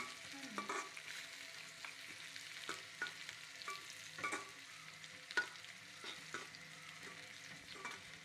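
Onion and dried red chilies fry in an open pan, a soft steady sizzle broken by repeated scraping and clinking as a spoon stirs them, close but fairly quiet and without talk.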